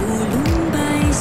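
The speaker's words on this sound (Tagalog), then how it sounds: "My ride is a traktora today." A tractor engine drones steadily on a rice farm, loud and close, with a low rumble that shifts slightly in pitch over about a second.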